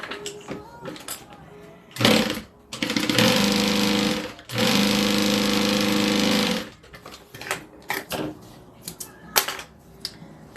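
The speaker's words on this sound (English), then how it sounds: "I'm going to sew all of those together." A sewing machine stitches right-sides-together fabric layers with a padding layer between for a notebook holder, running loud in two steady bursts of about two seconds each, with short starts and stops and soft handling clatter around them.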